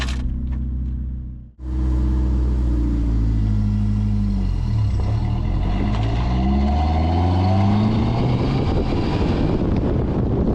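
A four-cylinder Turbo Coupe engine idles high, near and steady with a loud droning rumble and rising, shifting tones, after a brief cut near the start.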